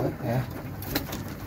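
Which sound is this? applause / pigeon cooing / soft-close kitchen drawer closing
pigeon cooing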